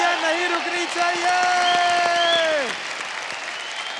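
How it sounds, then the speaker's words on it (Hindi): Audience applause on the TV singing show Superstar Singer Season 3, a steady wash of clapping under a held sung or spoken voice that fades out partway, leaving quieter clapping. "तालियां नहीं रुकनी चाहिए"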